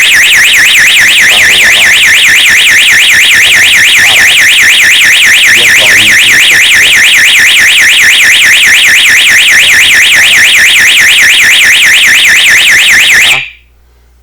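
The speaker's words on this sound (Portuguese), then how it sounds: "O segundo disparo que a gente vai fazer agora, ó, estou com o alarme ativado" A loud electronic security alarm, triggered by a motion sensor, warbles rapidly and continuously for about thirteen seconds, then cuts off abruptly into silence.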